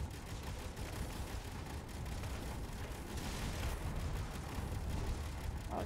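Dense weapon fire and explosions during a fleet battle between ships in the Space Engineers video game, a continuous loud rumbling barrage of booms and blasts with no pause.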